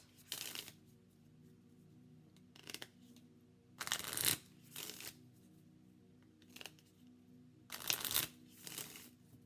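Oracle cards being shuffled by hand, several short riffling bursts separated by quiet pauses, close and fairly soft.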